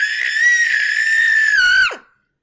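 A person lets out a long, high-pitched girlish scream at close range, holding the pitch for nearly two seconds before it breaks off and drops into silence.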